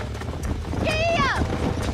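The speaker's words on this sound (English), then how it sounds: "There's the horses!" Horses in the Red Dead Redemption video game clop along at a run beneath wind and game noise, while a sharp whinny rises and falls midway and voices talk over the hoofbeats.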